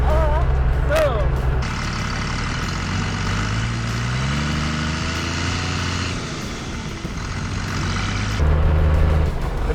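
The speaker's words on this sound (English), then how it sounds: "You gotta love an old 12 valve Cummins." An old 12-valve Cummins diesel in a Jeep rumbles steadily while driving, a loud low engine drone with rising and falling pitch across the clip, joined by a brief voice near the start.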